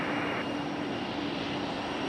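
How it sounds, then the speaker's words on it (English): A Delta CRJ jet lands on runway 5 right at Raleigh-Durham airport, a steady, loud broadband engine roar filling the short moment with no voices. "Delta CRJ landing over on 5 right"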